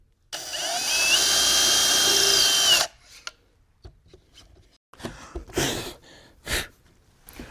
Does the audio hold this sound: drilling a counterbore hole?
yes